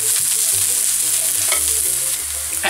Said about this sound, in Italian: aggiungiamo le melanzane e facciamole saltare 2-3 minuti a fiamma bella viva